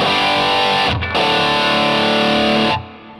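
Loud, buzzy distorted electric guitar chords through a Crate Stealth 50 amp model on a Helix with EQ switched off, ringing out, with a brief dropout near the start before cutting off abruptly at the end.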